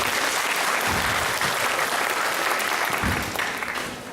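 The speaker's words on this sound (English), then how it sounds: "Let's give them another round of applause." A crowd claps loudly and steadily at a school spring concert, a dense burst of applause that fills the room and begins to fade near the end.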